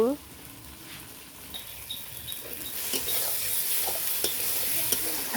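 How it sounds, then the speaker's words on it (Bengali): Spice masala for meat frying in a pan, with a continuous sizzle and hiss, stirred with soft scraping strokes and light clicks, close by and with no talk. "মশলাটাকে ভালো করে কষিয়ে নিতে হবে, মশলা কষাতে মাংসর কিন্তু স্বাদ হয়।"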